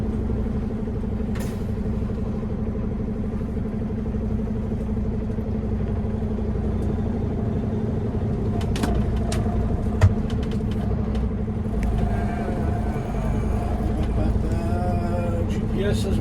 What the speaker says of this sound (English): We give the truck a second to air everything up.